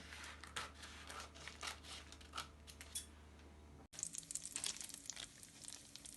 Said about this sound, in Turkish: Hamurlarımız mayalandıktan sonra aralarını makas yardımıyla keselim.